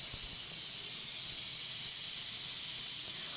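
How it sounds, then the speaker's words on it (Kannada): A pressure cooker vents steam in a steady, unbroken hiss while field-bean sambar cooks inside, close and fairly loud for the whole stretch with no voices. "ಕುಕ್ಕರ್ ಮುಚ್ಚಳ ಮುಚ್ಚಿ 1 ವಿಜಿಲ್ ಹೊಡ್ಸಿದ್ರೆ ಸಾಕಾಗುತ್ತೆ"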